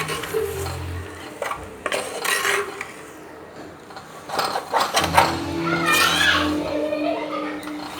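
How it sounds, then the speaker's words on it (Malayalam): Spoon scraping and clattering in a pan while pounded beef is stirred with masala for Kerala idiyirachi, irregular clinks and scrapes at close range, loud bursts separated by quieter gaps. "ചേർത്തിളക്കുവാണ് നന്നായിട്ട് ചേർത്തിളക്കണം"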